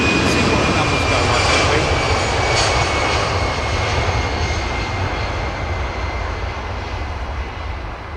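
Jet airliner departing London Heathrow, a loud, steady engine roar filling the whole stretch and slowly easing as the aircraft climbs away.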